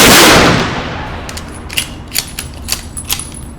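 Rifle volley salute at a September 11 memorial observance held by an American Legion post in McMinnville: a loud blast already fading at the start, then a series of sharp metallic clicks as the rifles are worked.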